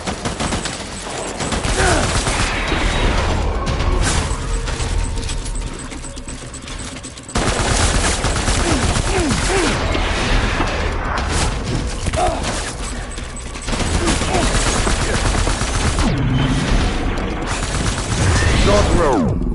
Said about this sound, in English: Shoot the motherfucker!